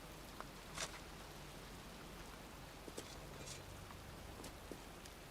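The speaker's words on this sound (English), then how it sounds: "standing in a cemetery in pouring rain" Steady pouring rain in a game cemetery, a dense even hiss with scattered louder drips and splashes throughout, constant and fairly quiet with no voices.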